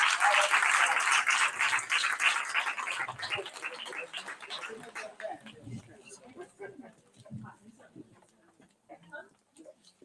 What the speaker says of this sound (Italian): io farei un applauso anche a lei